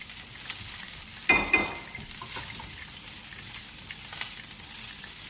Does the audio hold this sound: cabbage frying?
yes